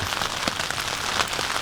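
Steady rain patters on a surface at a campsite, a dense, even hiss of drops with small irregular taps, close and moderately loud, with no voices.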